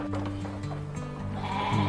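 Texel and Merino sheep bleat on a farm, several overlapping calls held and layered close by, loud and steady with no talking.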